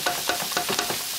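Onion and garlic are stir-fried in a pan for curry fried rice, close sizzling broken by four or five rhythmic scraping strokes of a spatula, each lifting the hiss briefly.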